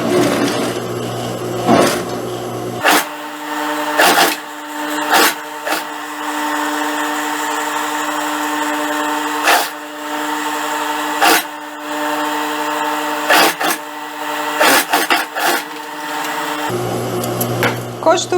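A sewing machine stitches the anatomical waistband onto pantacourt trousers, running in a steady close whir for about fourteen seconds, broken by a few brief knocks and pauses.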